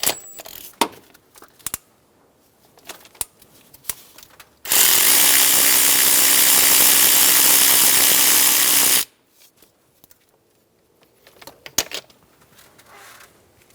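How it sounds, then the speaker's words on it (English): A ratchet with a 12mm socket removes the gas line bracket nut on a 2003-2008 Honda Pilot: a loud, continuous mechanical whir lasting about four seconds, framed before and after by sharp metallic clicks and clinks of handled tools. "Using a 12mm socket, remove the nut for the gas line bracket."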